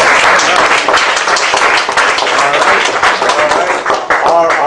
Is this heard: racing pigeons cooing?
no